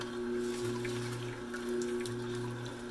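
Produce rinsed under a running kitchen tap before juicing, a faint steady trickle of water beneath a constant low appliance hum.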